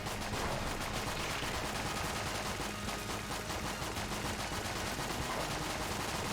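Rapid, continuous gunfire from Enter the Gungeon, a dense stream of overlapping shots that holds at a steady level throughout with no pauses.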